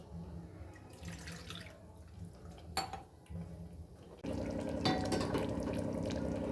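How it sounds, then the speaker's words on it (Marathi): Boiled water pours into dal for Pandharpur-style bazaar amti, a steady close liquid splash that grows louder and fuller in the second half, with a brief clink partway through and no voices. "हे मी उकळलेलं पाणी ॲड करते"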